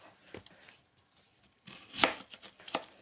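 An onion being chopped on a board: a few scattered, faint knife taps, then a quiet pause, then several sharper cuts close by.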